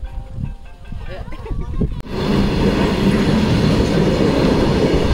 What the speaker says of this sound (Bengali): ট্রেন পেরিয়ে গেছে